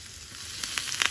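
Hot oil tempering with hing and red chilli powder, added after the gas is switched off, sizzles softly and steadily, with a few sharper crackling bursts near the end.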